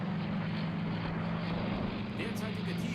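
A steady propeller aircraft drone passes overhead in the submarine game Silent Hunter III during a storm, a constant low hum beneath dense rushing wind and sea noise.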